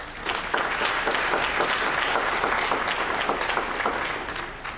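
Audience applause at a high school graduation celebration, a dense, steady roar of many hands clapping together that swells at the start and eases slightly toward the end.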